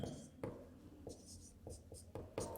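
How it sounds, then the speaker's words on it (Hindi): A pen or chalk scratches out handwriting in short strokes and taps, faint and close, with a few pauses between marks and no speech. "तो अभी मैं यहाँ लिख देता हूँ आपको।"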